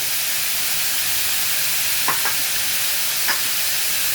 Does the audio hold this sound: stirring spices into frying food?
yes